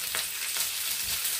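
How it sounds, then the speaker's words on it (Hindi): Mustard seeds and curry leaves sizzle in hot oil for a masala toast sandwich filling, a brief steady hiss with faint stirring taps underneath and no voices. "ऑयल गर्म हो गया, अभी इसके अंदर हम ये सरसों डाल देते, कड़ी पत्ता,"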